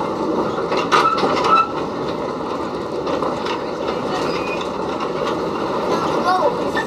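A safari tourist train rolls steadily through a park in Debrecen, its wheels and carriages giving a loud, continuous rumble with rhythmic clatter and a brief squeal, while people talk over it.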